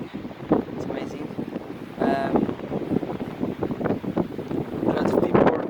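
Wind blowing at a beach, gusting and rumbling against the microphone in uneven bursts, close and fairly loud, with a person talking over it.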